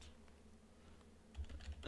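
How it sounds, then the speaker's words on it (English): Quiet keystrokes on a computer keyboard, soft and sparse at first, then a quick cluster of louder clicks toward the end, with no voices. "if I can type"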